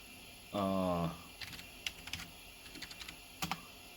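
Commands are typed on a computer keyboard while setting up an Aruba S2500 switch, giving a scattering of light, close key clicks after a short tonal beep, with no talk.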